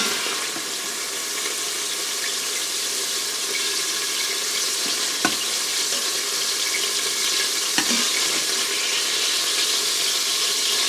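Chicken sizzles in an Instant Pot on sauté while jambalaya is made, a steady close frying hiss broken by two sharp clanks of a utensil against the pot as it is stirred.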